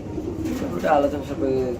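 A pair of pigeons at a breeding farm, the male sitting on eggs, gives a short soft coo close by, set against low background noise and murmuring voices.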